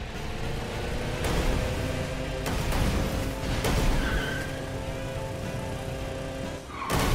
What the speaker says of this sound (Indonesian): Wih, bisa naik mobil, buset.